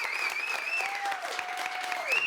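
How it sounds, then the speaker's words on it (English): A talk-show audience in Seattle gives a welcoming guest a loud, sustained round of clapping and cheering, with a high whistle riding over the dense applause throughout. "Much louder ovation than me."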